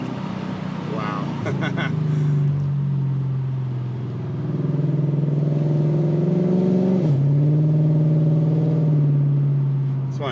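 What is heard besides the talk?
Infiniti Q45 engine accelerating in second gear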